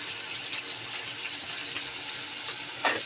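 Tap water runs steadily as a bowl and mixer grinder jar are rinsed at a kitchen sink, a continuous faint rush with a brief louder splash near the end.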